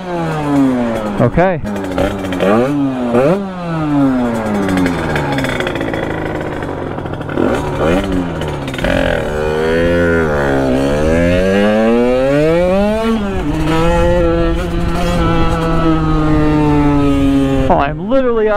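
A Sherco supermoto fitted with a 77cc Metrakit idles and is revved repeatedly, the loud, close engine note climbing and falling in sweeping bursts, with a brief spoken word near the start.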